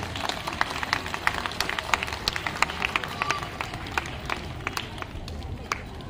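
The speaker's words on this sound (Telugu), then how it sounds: "ఒకసారి గట్టిగా క్లాప్స్ కొట్టవలసిందే కోరుచున్నాం" Scattered, irregular clapping from an audience at a Gita Jayanti celebration held by a Shiva Shakti meditation-yoga group. Sharp claps ring out steadily over a low murmur of crowd noise for the whole stretch.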